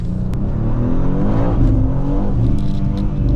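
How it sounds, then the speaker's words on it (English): A BMW M2 G87 accelerating hard, its engine revving and rising in pitch with audible gear changes, heard loud and close from inside the car with no talk. "when you push the BMW M2, it comes alive"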